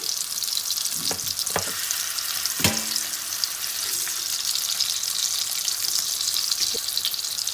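Chicken seekh kebabs fry in a little oil in a pan, with a steady sizzle throughout and a few clinks and taps as they are turned over one by one.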